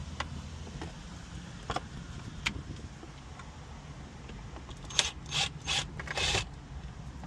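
Screw clips are worked loose from the bezel of a 2020 Jeep Wrangler, quiet scattered clicks and plastic ticks close up, ending in a short cluster of sharper snaps and scrapes.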